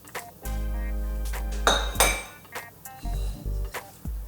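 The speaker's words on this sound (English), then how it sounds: "So just stir these all through." Red lentil dhal being stirred in a pot, a few clinks and knocks of a spoon against the metal rim over a loud low hum, close by with no talk.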